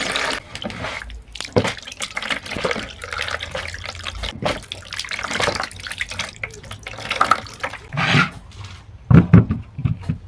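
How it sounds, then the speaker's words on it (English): Potatoes are washed under a running tap, with irregular splashing, gurgling and rubbing sounds close by, uneven in loudness and ending in a few sharper splashes. "And then wash my potatoes."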